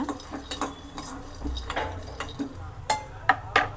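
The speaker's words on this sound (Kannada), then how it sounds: "ಕಡಲೆ ಬೀಜನ ಮೀಡಿಯಮ್ ಫ್ಲೇಮಲ್ಲಿ ಇಟ್ಕೊಂಡು ಫ್ರೈ ಮಾಡ್ಕೋಬೇಕು" Peanuts roasting on medium flame in a small kadai, scattered clinks and scrapes of a spoon against the metal pan over a faint sizzle, close and intermittent, no speech.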